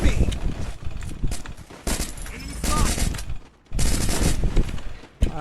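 Rapid bursts of automatic gunfire in the video game Counter-Strike (CS) during a ranked match, loud and close, with dense volleys broken by short pauses and a voice talking over the shooting.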